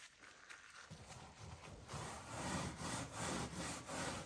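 A stainless steel pad scrubs old finish off the wooden hull of a 1950 22-foot Chris Craft U22, making a soft rhythmic rasping that grows into repeated back-and-forth strokes, close and fairly quiet.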